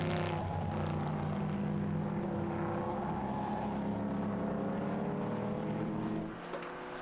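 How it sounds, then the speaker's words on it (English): Shelby Cobra and Jaguar E-Type race cars thunder down Hangar Straight at Silverstone, a loud, sustained multi-engine drone with layered harmonic tones, fading slightly near the end. "Three Cobras, one Coupe and two Roadsters and an E-Type heading down Hangar Straight."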